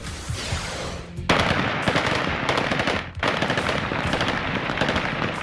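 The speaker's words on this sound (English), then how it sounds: "Celebratory gunfire from the Taliban as America's longest war officially comes to an end" Sustained bursts of celebratory automatic gunfire from Taliban fighters in Afghanistan crackle continuously, loud and rapid, with a brief pause before the shooting resumes.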